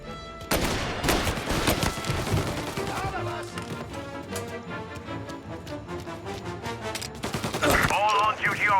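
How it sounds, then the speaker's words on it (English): Rapid bursts of gunfire crackle in the Mafia Definitive Edition shootout, loud, overlapping shots from several weapons mixed with a game score and clattering effects, swelling again at the end. "All on-duty officers, gunshots being reported."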